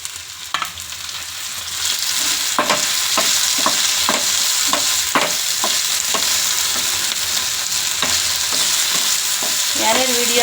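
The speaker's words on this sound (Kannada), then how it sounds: "ಎಣ್ಣೆಯಲ್ಲಿ ಚೆನ್ನಾಗಿ ಆಲೂಗಡ್ಡೆ ಗೋಲ್ಡನ್ ಬ್ರೌನ್ ಬರೋವರೆಗೂ" Potatoes fry in hot oil until golden brown, giving a steady loud sizzle throughout with repeated sharp clicks of stirring utensils against the pan.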